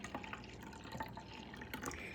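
Chai tea is poured into a cup in a steady trickling stream, close and fairly quiet, with no voices.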